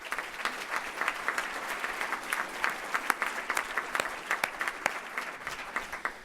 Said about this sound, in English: How about giving a warm round of applause?